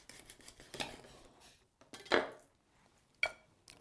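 A knife cuts and disjoints a capon on a kitchen surface, giving a few sharp metallic clicks and scrapes with quiet gaps in between, close and fairly soft.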